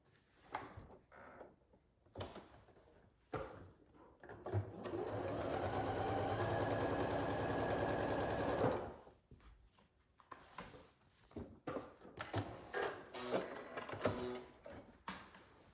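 A sewing machine runs steadily for a few seconds of close, even whirring along the bottom edge of a pillow front, with light clicks and fabric handling before and after.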